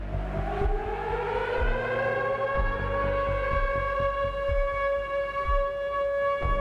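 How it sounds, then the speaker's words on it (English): A civil defense siren warning of Hurricane Agnes flooding wails in a long sustained tone that rises and holds, loud and far-carrying over a low background rumble. "the haunting siren and alert"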